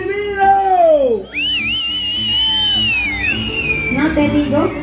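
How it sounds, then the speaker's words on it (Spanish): A crowd of men at a concert whistles loudly in long rising and falling tones, overlapping with shouting voices and general commotion. "¡Muchachos, un silbido!"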